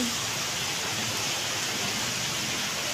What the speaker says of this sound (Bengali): এই দেখতে পাচ্ছেন বৃষ্টি, অনেক জোরে জোরে বৃষ্টি হচ্ছে।